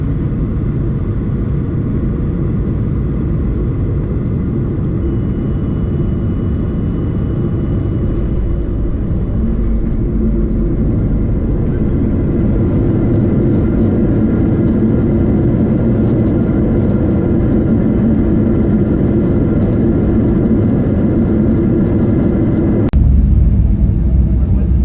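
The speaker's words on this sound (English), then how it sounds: "please enjoy our landing on runway 7 left" Cabin noise aboard an Alaska Airlines 737-900ER landing in Anchorage: a loud, steady low engine roar and airflow rumble persists throughout, ending with a sharp jolt and heavier thump as the wheels meet the runway.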